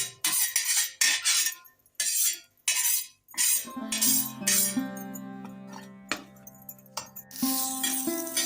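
Roasted coconut being scraped and moved from a pan onto a plate while making misal masala, giving a string of clinks and scrapes of utensil on metal with short pauses, close and fairly clear, no voices.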